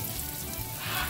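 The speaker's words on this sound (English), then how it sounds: "See those sizzle? You know your pan is hot." Chicken cutlets sizzle in hot oil, a steady crackling hiss that fills the pan with constant spitting close by.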